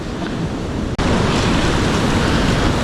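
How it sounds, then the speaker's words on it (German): Ocean surf breaking at a surf spot on Portugal's southern coast, a steady, loud wash of waves with wind buffeting the microphone and a brief dropout near the start. "Es sind auf jeden Fall viele Wellen da."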